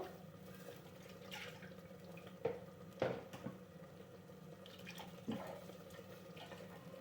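Water swished in a mixer jar to rinse out leftover ground tomato for rasam, a close running pour with a few sharp splashes and knocks of the jar, no talk.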